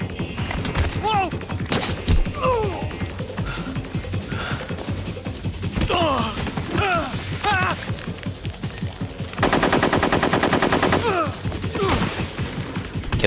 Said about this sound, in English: Shoot the other one!